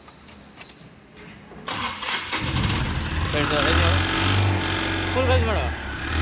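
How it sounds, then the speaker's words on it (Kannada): A Mahindra Maxximo school van with a wiring fault is cranked and starts, engine catching after a brief whir and settling into a steady close idle with a rising rev, with people talking nearby. "ಸ್ಟಾರ್ಟ್ ಮಾಡಬೇಕು ಗಾಡಿ."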